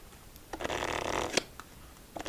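A deck of playing cards is shuffled up close in a quiet room, with a soft riffling burst of about a second, then a sharp snap and a few light taps and card flicks.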